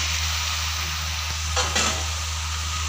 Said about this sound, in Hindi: और अब साथ में हम डाल देंगे आलू